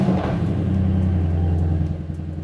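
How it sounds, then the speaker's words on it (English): A car engine idles steadily with a low, even rumble, close and fairly loud, on a car being fitted with an OBD dongle and a multi-map tuning switch. "Let's start the car."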